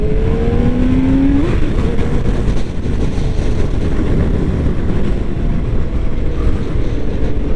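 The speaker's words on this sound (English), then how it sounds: "this motor spins up quick" A 2016 BMW K1600GT motorcycle engine pulls from almost a stop in third gear. A rising whine opens into a loud, steady rush of engine and wind that keeps up throughout, with no talking.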